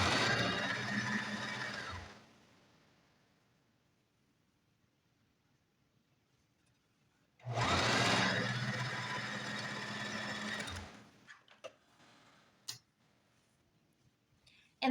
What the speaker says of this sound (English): And now we'll sew along this side.